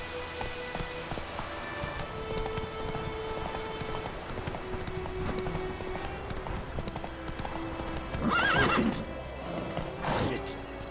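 Horse in The Witcher 3 video game, hooves clip-clopping steadily with a couple of loud neighs near the end, while someone talks over it.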